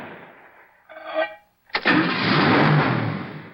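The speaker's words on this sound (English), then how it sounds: "All winter long, your car starts" Car engine starting on a cold winter day, from an old Sunoco gasoline advertisement: a short cranking burst, a pause, then the engine catches and settles into a loud, steady running roar.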